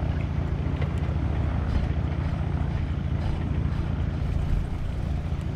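Light aircraft piston engine in a flight simulator, running steadily after start on a flight near Bordeaux Mérignac, a loud, even droning hum with a constant low throb and no talk over it.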